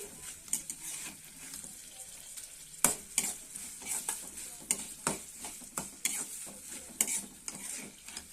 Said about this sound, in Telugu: ఇలా వేయించుకోవాలి తాలింపు